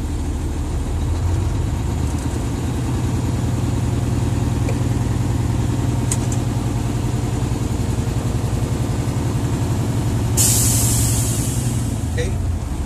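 A truck's engine revs steadily during an in-cab air brake check to build up air pressure, giving a continuous low drone throughout and a sharp hiss of air near the end.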